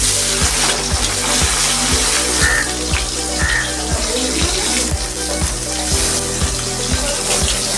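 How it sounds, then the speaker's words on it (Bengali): Fish sizzles loudly in hot mustard oil in a kadai, a dense steady crackle that stays close and constant, with a regular low knocking beneath it and no speech. "আমার তেল গরম হয়ে গেছে আমি মাছগুলো দিয়ে দিচ্ছি"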